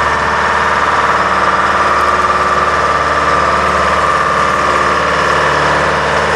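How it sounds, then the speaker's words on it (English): A Detroit diesel engine powers an Al-Jon 400 logger baler, running as a loud, steady, close-up drone with a constant vibrating rattle and no pauses. "It was powered by a Detroit diesel."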